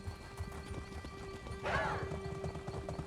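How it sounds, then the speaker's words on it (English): Horse hooves clip-clopping from a riding mount in The Elder Scrolls Online, a steady rhythmic patter with a brief neigh or whinny in the middle, at moderate loudness under faint background game ambience. "And Ember's on a horse"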